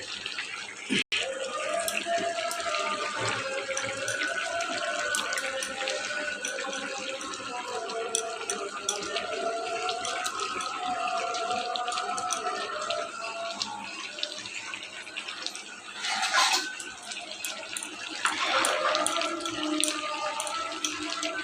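Pieces of fish fry in a pan, added one by one, producing a continuous hissing sizzle with scattered pops and a couple of louder surges as more fish hits the oil.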